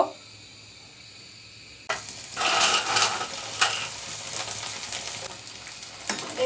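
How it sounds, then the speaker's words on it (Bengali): Sticky rice jhuri frying in a pan until crisp: after a quiet start, a loud steady sizzle erupts and continues with crackling bursts and occasional stirring scrapes, close up. "এবার আমার মুচমুচে হয়ে গেছে আমি বেজে নিব"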